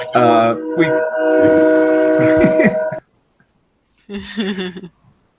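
A voice imitates train noises: a long, loud, held horn-like tone, a short silence, then a second shorter hooting burst, all close up.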